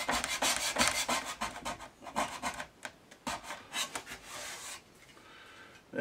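A hand scraper rasps across the wooden cabinet of a Bush VHF 41 radio being restored, in a run of close, uneven scraping strokes that pause briefly near the middle and trail off toward the end.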